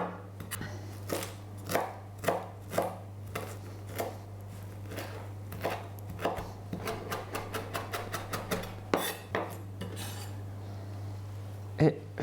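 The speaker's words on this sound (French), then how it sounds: "je vais hacher" Fresh parsley chopped with a knife on a board, a close run of sharp knife taps that speed into a rapid burst of cuts before slowing again, over a steady low hum.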